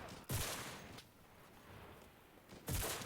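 Gunfire in the video game Enlisted: two sharp, booming shots about two and a half seconds apart, quiet in level, separated by a low hiss.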